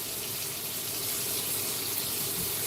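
Beaten eggs poured into a hot pan with melted butter give a steady, loud broadband hiss of sizzling, close up, with no talk over it.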